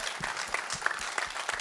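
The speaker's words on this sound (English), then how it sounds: "a round of applause for me" Dense applause from a crowd, many hands clapping steadily and loudly throughout the short stretch.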